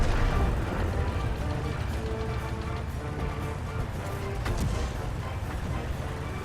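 Tank gun fire and explosions in the Brothers in Arms video game, a dense, rumbling battle wash of booms and impacts, loud and continuous, with no clear speech.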